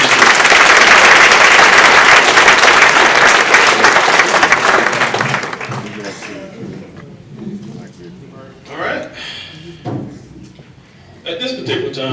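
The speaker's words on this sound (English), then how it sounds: "give him a round of applause for being great" A fraternity Founders Day audience breaks into loud, dense applause lasting about six seconds, then it dies away into scattered claps, thumps and speech.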